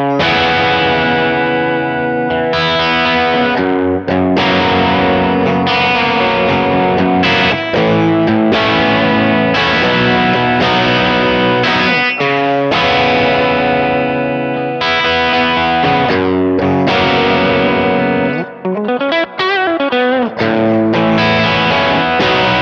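An electric guitar fitted with Lambertones Lamber'tron pickups plays a loud, continuous run of distorted chords and riffs with crisp attacks, briefly switching to a wobbling, warbling effect near the end.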